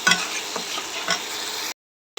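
Ground spices fry in oil for bhuna khichuri with lentils, a brief close sizzle broken by a few stirring scrapes, then a sudden cut to silence.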